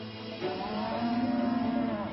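Cattle at a concentrated animal feeding operation feedlot let out a long, loud, drawn-out moo that swells after a brief lead-in and holds steady over a continuous herd background.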